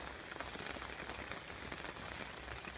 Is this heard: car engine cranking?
no